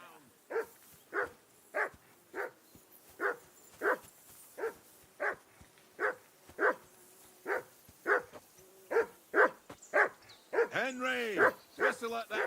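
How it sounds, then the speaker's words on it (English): A dog barks repeatedly in Kingdom Come Deliverance 2, a steady rhythmic string of close, evenly spaced barks that turn into faster yips and a whimper near the end. "Whistle at that mutt of yours to stop barking"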